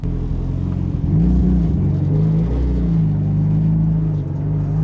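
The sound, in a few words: Mitsubishi Lancer Evo 9 car driving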